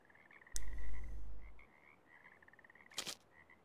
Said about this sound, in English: Your chick's caught himself a frog.